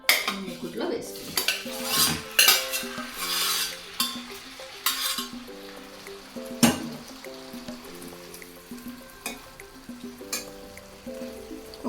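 Boiled potato pieces tossed in oil in a wok, with a metal spoon scraping and clanking against the pan in irregular bursts over a low, steady sizzle and a faint background hum.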